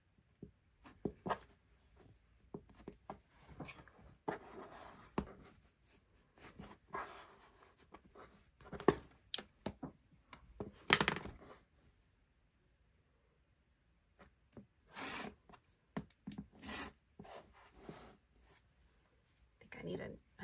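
A blade slices a small piece of fabric near the selvage, heard as short, crisp, intermittent cutting strokes and rustles close by, with pauses and talk in between.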